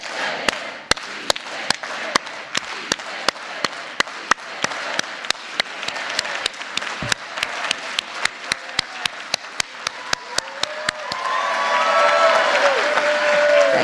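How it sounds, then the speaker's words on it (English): An audience claps in organized unison at a Dolores Huerta event, a steady rhythmic beat of sharp claps that builds into loose cheering and applause near the end. "Let's all do it all together with an organized hand clap."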